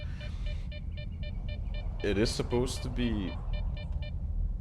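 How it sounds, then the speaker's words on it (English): An anomaly detector in the video game STALKER 2 sounds a steady series of short, evenly spaced electronic beeps near an anomaly. Someone talks briefly over the beeping in the middle. "sorry for the beeping, that's because I'm close to this anomaly."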